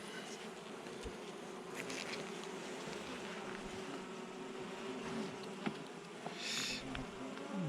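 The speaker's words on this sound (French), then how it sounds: "j'entends un truc qui volette autour un peu fort. J'hésite entre un taon et un frelon." A hornet buzzes and drones around outdoors, a continuous flying insect hum that swells and fades as it circles nearby, fairly faint with no one speaking.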